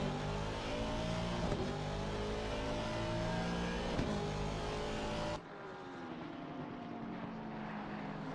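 Race cars in a sim racing game at Imola scream past at high revs, engines droning continuously with a pitch shift as one passes, loud and steady, then the roar drops to a more muffled engine tone.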